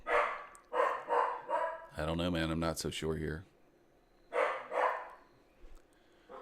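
A dog barks in repeated short bursts, fairly close, first a run of four quick barks, then a later pair, while someone talks in between.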